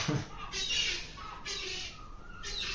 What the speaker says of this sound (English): I'm just going to share the sounds of the seagulls